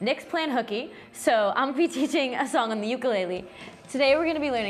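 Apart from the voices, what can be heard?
No everyday noises stand out.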